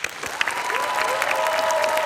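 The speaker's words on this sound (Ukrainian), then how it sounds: "Ваші оплески." A television studio audience applauds steadily, a dense even wash of clapping, with music or a sustained tone running underneath.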